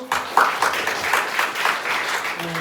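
A small group at a Korean Bible study class claps in steady, dense applause that holds at an even level throughout, with a faint voice underneath.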